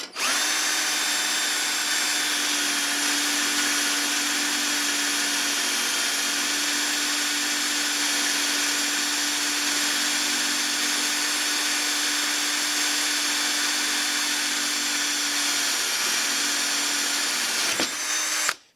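A power drill runs steadily with a Forstner bit boring a hole into wood, a loud, continuous whine with a sustained motor tone lasting about eighteen seconds before stopping abruptly near the end; no one speaks.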